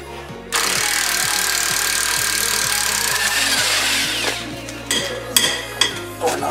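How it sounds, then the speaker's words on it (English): A power tool running loudly up close while a Nissan 350Z is prepped for drifting, with a sustained motor whine and rhythmic hammering pulses. It cuts out partway through, followed by a few sharp clanks and knocks. "Whew. Okay, power tools."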